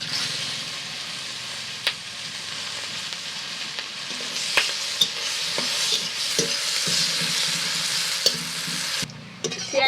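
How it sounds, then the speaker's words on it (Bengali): Chopped onions fry in oil left over from frying pangas fish, making a continuous close hiss with occasional soft pops and utensil ticks throughout. "এই তেলের উপর দিয়ে দিচ্ছি পেঁয়াজ কুচি"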